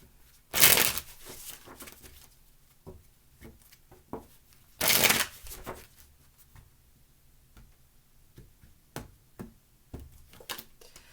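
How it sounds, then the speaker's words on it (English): Tarot cards are shuffled in several short bursts, two louder riffles followed by lighter scattered flicks and taps, close and without talk. "2 more shuffles, please."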